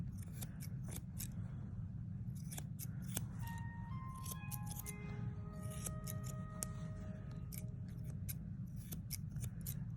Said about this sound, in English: These scissors are not very sharp.